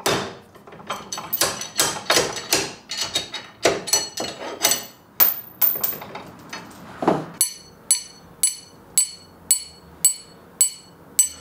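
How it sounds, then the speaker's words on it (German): A small hammer taps along a brass trumpet mouthpipe during hand instrument making, a long series of sharp metallic knocks, irregular at first and then settling into an even, ringing rhythm, close and loud without speech. "Jetzt nimmt man einen kleinen Hammer und klopft das ganze Mundrohr an."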